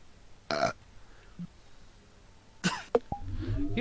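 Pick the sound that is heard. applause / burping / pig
burping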